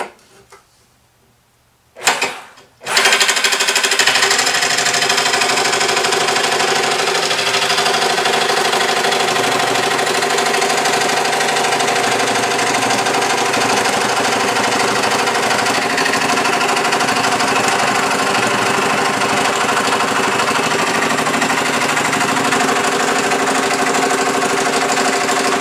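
Powered saw blade cutting an oiled metal frame for a BM 250 trials bike, a steady, close mechanical drone that starts after a brief quiet moment and runs on without pause.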